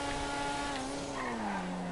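Race car engine in GTA V on PS5 during a one-make race, a steady harmonic drone sliding slowly downward in pitch as the car decelerates, with faint tire noise underneath.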